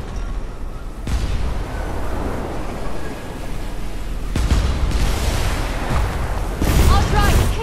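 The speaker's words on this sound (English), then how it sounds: "Enemies opening fire." Enemy gunfire and explosions rumble around an airship in the Airship: Kingdoms Adrift game, a dense continuous roar of combat punctuated by several loud booming hits, with a voice speaking over the din.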